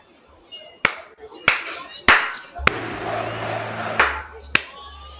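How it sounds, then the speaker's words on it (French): Sharp, separate hand claps ring out one at a time, about six in total, loud and close over a game soundscape from Assassin's Creed set in Jerusalem's poor quarter, with a low hum underneath. "Pourquoi j'applaudis?"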